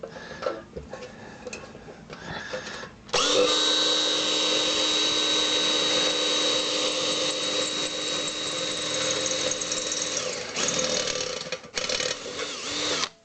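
A power drill runs steadily for about seven seconds at a strained, even whine drilling a pilot hole, followed by a few shorter bursts and clicks.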